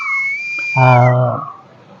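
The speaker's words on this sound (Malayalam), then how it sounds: "ചൂളമടിച്ച് പാട്ട് പാടുന്ന ഈ കലാകാരൻ" A performer whistles a song: a sustained high whistled melody line runs through the clip, joined briefly by a louder held tone partway through, heard fairly close in a quiet setting.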